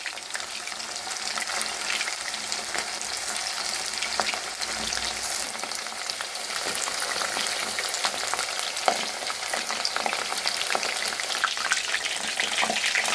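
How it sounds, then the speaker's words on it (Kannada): Chicken manchurian pieces deep-frying in hot oil over medium heat give a continuous close, loud sizzle with occasional stirring clatter and no talk. "ಎಣ್ಣೆ ಕಾದಿದೆ, ಇವಾಗ ಹಾಕೊಳ್ಳೋಣ. ಮೀಡಿಯಂ ಉರಿನಲ್ಲಿ ಬೇಯಿಸೋಣ."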